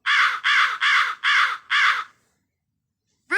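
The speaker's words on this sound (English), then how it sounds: "Hooded crow." A hooded crow gives five loud, harsh caws in an even, rapid rhythm. The calls are close and clear, followed by a pause and the start of another call.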